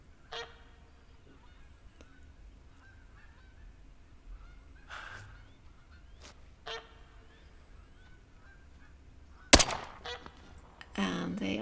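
A goose honks in theHunter: Call of the Wild on the Revontuli Coast, a few faint, distant calls scattered over quiet ambience, followed by a sudden sharp bang and louder rustling near the end.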